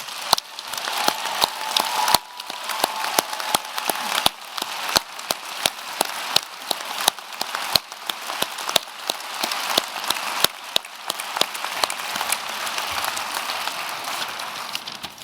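Audience applause at a university graduation ceremony, a dense, steady patter of many hands clapping at moderate distance throughout, with no voices over it.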